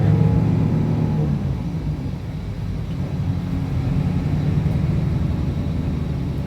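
Hino RN8J bus rolling slowly around a safety training test track and braking smoothly, heard as a loud, steady low engine and road rumble that eases slightly as it slows, without distinct brake squeal.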